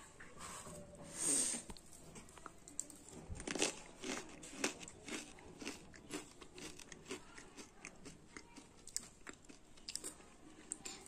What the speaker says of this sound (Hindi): तीखा मीठा मिक्स है दोनों देखिए देखने में भी काफी ज्यादा अच्छा लग रहा है तो चलिए इसका टेस्ट करके बताते कि कैसा लगता है